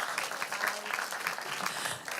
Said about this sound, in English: you have to keep clapping until she's actually on the stage